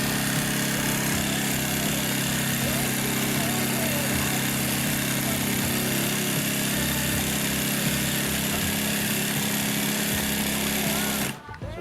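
A Consew 205RB-1 top and bottom feed upholstery sewing machine runs in a continuous, loud mechanical buzz and rattle that holds steady, then cuts off at the end.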